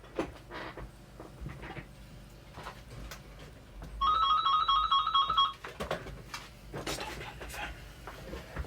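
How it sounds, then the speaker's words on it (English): A phone ringtone chimes in a repeating electronic pattern for about a second and a half midway, fairly close, while people chat in a room before and after it. "The phone."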